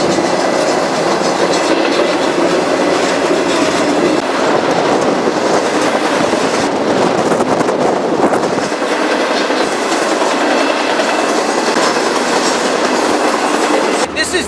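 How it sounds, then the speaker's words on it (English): A Tropicana freight train loaded with orange juice rolls past close by, heading north on a Florida main line. Loud rumbling and rhythmic wheel clatter stay steady throughout with no voices over it. "This is the juice train."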